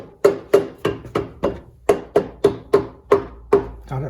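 A part is tapped onto a bore during 300ZX Turbo engine reassembly, about a dozen sharp, close hammer taps in a fairly even rhythm, each ringing briefly before the next.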